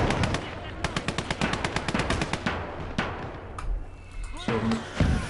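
Rapid machine gun bursts in the World War II game Call to Arms: Gates of Hell on the Eastern Front, loud rattling volleys followed by scattered shots and thuds, with a voice talking over the gunfire.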